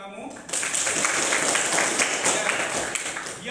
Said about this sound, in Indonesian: tepuk tangan buat teman kamu